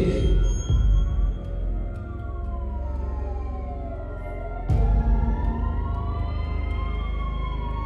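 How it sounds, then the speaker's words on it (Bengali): Police and ambulance sirens wail together in a sound effect within a Bengali village ghost story, with overlapping rising and falling tones that swell loudly, dip, then surge again near the midpoint, with no speech. "কিছুক্ষণ পরে পুলিশের আর অ্যাম্বুলেন্সের শব্দ পেলাম"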